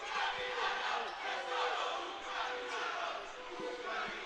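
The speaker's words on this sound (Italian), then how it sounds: "Elogiato ora dai suoi tifosi." At a Serie A futsal match between Fortitudo Pomezia and Ecocity Genzano, a crowd of fans chants and cheers for the Fortitudo captain, a sustained, fairly distant roar with rhythmic shouting and occasional knocks.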